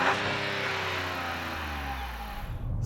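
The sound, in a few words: 2024 Chevy Trax 1.2 liter three-cylinder engine revving outside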